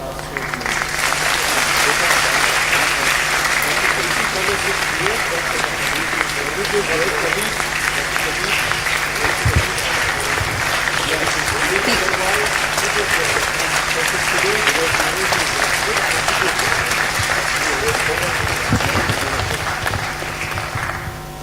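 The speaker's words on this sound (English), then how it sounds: "May I now request the House to kindly give a round of applause to the rest of the task force" Sustained applause from an audience in a formal assembly hall session, a dense steady clatter of many hands lasting about twenty seconds, loud and close, with a few voices mixed in.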